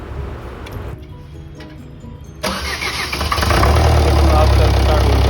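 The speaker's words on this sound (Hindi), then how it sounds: "आप चल स्टार्ट हुई गाड़ी," A Maruti Ciaz diesel engine cranks and catches after quiet shop noise, then settles into a loud, steady rumble close by; voices are heard in the background.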